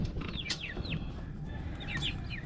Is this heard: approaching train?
no